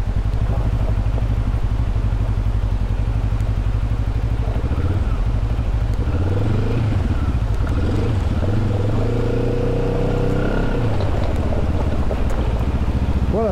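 A TRK 702 motorcycle rides along small off-road trails, its engine a loud, steady drone throughout with shifting pitch as it works the dirt track, mixed with heavy wind rush on the microphone.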